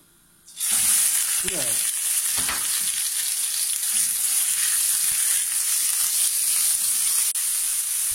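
A piece of beef laid in a hot oiled pan bursts into loud, continuous sizzling and spattering up close, with a few soft clatters near the start.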